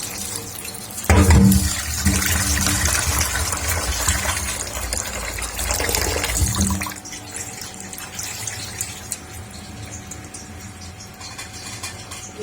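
Raw mutton pieces are washed by hand in clean water for a karahi, with steady sloshing and stirring, and a heavier splash near the start. The sound is close and moderately loud, with no talking.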